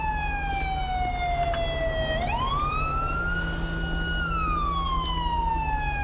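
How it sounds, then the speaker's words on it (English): An Illinois State Police car siren in GTA 5, one loud wailing tone sweeping down, rising, holding, then falling again, steady and close with no talk. "We're going to go ahead and just mute our siren real quick."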